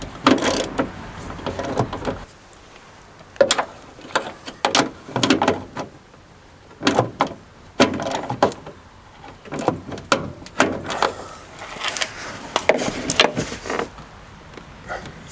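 Metal clicks and ratcheting bursts from a wrench tightening a bolt on the front bumper of a Talbot Express motorhome, the bolt head jammed against metal near fiberglass, in repeated short close-up spurts with pauses, no talk.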